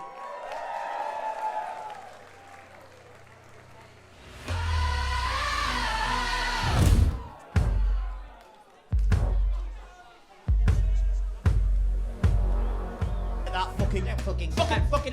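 An audience at the Drag Idol 2019 final show at Boulevard in Newcastle cheers and applauds. A voice speaks first, then a loud surge of crowd noise follows, and shorter bursts of clapping and whooping come in quick succession.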